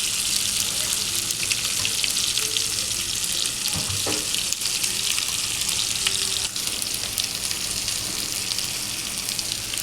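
Tomato and asafoetida sizzle loudly in hot tempering oil for chana dal, a steady, dense frying hiss throughout, with a brief stir or clink of a utensil near the middle.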